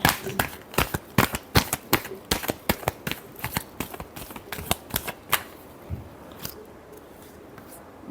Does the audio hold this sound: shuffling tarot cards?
yes